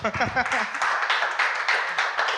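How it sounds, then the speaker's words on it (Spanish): Audience at a church sermon applauding, a sustained burst of clapping that follows a brief spoken call from the preacher. "Un aplauso."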